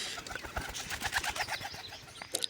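Domestic pigeons coo quietly nearby, a few soft throaty calls amid faint rustling and outdoor background, with no talking.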